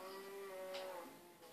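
A Minecraft cow lets out a single drawn-out, low moo, fairly loud and close, over faint game background.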